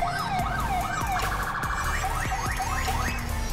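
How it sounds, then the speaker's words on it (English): A loud, rapidly warbling electronic police siren on a 2014 Charger in GTA V, cycling continuously with fast yelp sweeps, mixed with rhythmic clicking and engine rumble. "I changed the siren."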